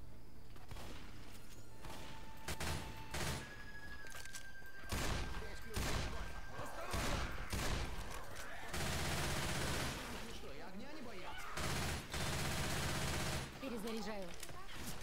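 Automatic Uzi submachine-gun fire in Left 4 Dead 2, bursts and sustained rattles mixed with other game gunfire and crashes across the scene, with voices talking over it at times.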